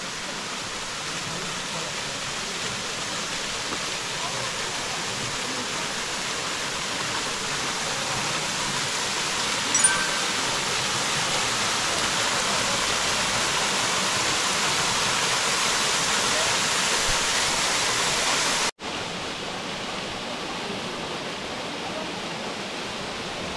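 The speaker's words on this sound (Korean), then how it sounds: "조국폭포가 자리 잡고 있다." Jogok waterfall in a rocky gorge at Mungyeong Saejae in late autumn, a steady, loud, broadband roar of water crashing down, continuous and close with no voices.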